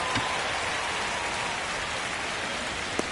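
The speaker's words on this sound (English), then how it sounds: "This rain is not letting up." Steady rain pouring over a baseball stadium in the video game MLB The Show 25, a dense, even hiss with no talk.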